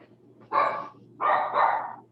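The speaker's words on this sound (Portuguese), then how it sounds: "É você que tá com cachorro aí?" A dog barks in a participant's room during an online group call, three loud, close barks in quick succession with no speech.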